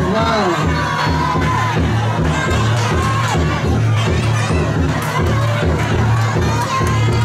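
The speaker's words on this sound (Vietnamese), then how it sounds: "quý khán giả cho một tràng pháo tay" Loud crowd at a men-versus-women traditional wrestling match, with cheering, children shouting and whoops over a dense steady roar.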